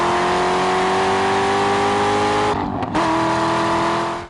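Chevrolet Corvette Z06 engine revving hard, a loud sustained mechanical roar with rising tones, broken by a brief dip around a gear change before pulling on again, no voices.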